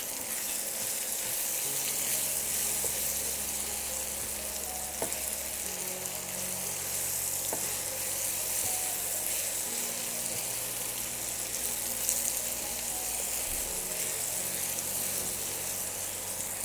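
Raw mango pickle frying in a pan with spices and black salt as it is stirred, producing a constant, even sizzle close by and a couple of faint utensil taps, with no speech.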